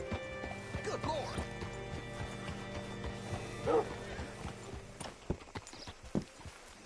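Horse hooves clip-clopping in the Red Dead Redemption 2 video game, quick hoof beats at moderate distance with a brief whinny, mixed with ambient game sounds.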